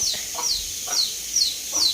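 Chickens walking around a home yard, giving several short clucks at an uneven rhythm, fairly close and moderately loud, with no talk.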